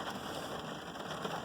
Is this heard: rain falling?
yes